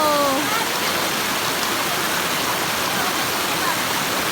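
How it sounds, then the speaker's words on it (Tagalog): Stream water rushes and splashes steadily where people are bathing outdoors at a river, a loud continuous broadband wash filling the scene with no clear pauses. "naliligo kami dito sa sapa"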